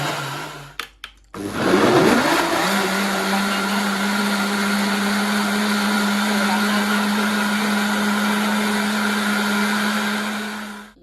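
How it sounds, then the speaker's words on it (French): An electric kitchen blender grinds kola nut and garlic, starting up after a couple of brief clicks and then running with a loud, steady motor whine for about ten seconds before cutting off. "Là, je mixe le cola et l'ail."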